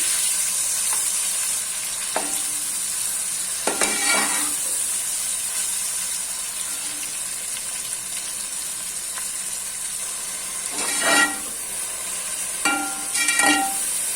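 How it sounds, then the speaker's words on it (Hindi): Two large tomatoes and five or six green chilies fry in a pan for a beef yakhni pulao. A steady, close sizzling hiss carries throughout, broken by a few short clinks and scrapes of stirring. "इतनी देर तक फ्राई करेंगे जब तक जो टमाटर हैं वो अंदर नहीं हो जाते"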